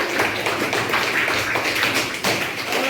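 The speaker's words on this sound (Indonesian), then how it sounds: "kasih tepuk tangan dulu untuk kelompok A" Classroom applause for a student group in a microteaching session: dense, steady hand clapping from a room of people, close and fairly loud, with rhythmic taps rippling throughout.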